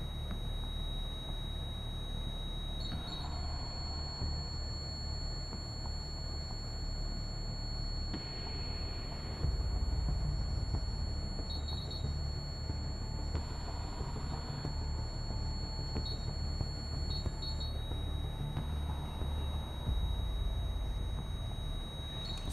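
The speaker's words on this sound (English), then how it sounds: "Look, it's beeping blue now because there's cold air in the room." Electronic ghost-hunting device in a hotel room giving a few short beeps, spaced several seconds apart, over a steady high electronic whine and constant background hum, with no talk.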